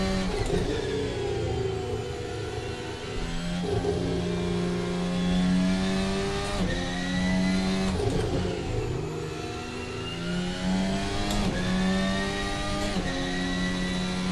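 A Formula Alpha race car engine in Assetto Corsa burbles and crackles on overrun off throttle, pitch sweeping down and up as revs drop and climb, steady and fairly loud with no talking.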